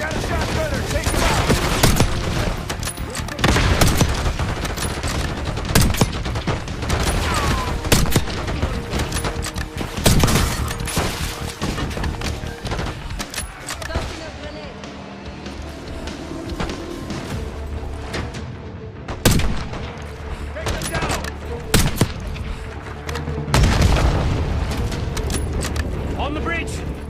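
Call of Duty Black Ops 6 firefight near a bridge: loud, dense bursts of automatic gunfire and sharp shots, with occasional heavy explosions and crashes, continuing almost nonstop while voices talk over the battle.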